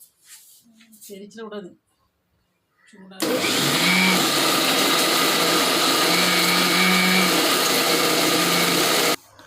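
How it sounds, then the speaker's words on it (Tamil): A kitchen mixer grinder blending sautéed ingredients for tomato chutney, a loud steady whirring roar lasting about six seconds after a short stretch of talk. "அடுத்து வதக்குனதை உள்ளே தட்டிட்டு போட்டு அரைக்கணும்."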